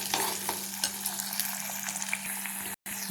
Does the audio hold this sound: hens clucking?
no